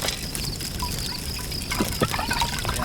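Water being poured for bathing, a steady gurgling splash that fills the short stretch, close and fairly loud, with no voices.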